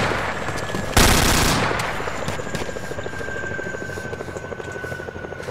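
A helicopter in a shooter game, its loud rapid rotor chop pulsing steadily close by, with a sudden burst of blast or gunfire noise near the start, and no talking.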